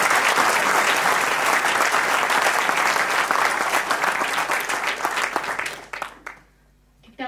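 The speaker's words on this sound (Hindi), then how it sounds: "सो उन सभी के लिए जोरदार ताली।" Loud, sustained applause from the crowd at a trainers' meeting in Chandigarh, a thick wash of clapping that holds for nearly six seconds, then thins out and fades to near silence.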